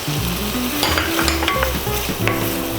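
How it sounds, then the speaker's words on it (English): Shrimp sizzling and frying in a pan with sautéed chayote in olive oil, a steady loud crackle with occasional stirring scrapes and clinks, close up and without speech. "I'll just cook the shrimp for a little while."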